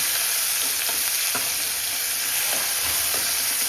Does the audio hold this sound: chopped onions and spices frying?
yes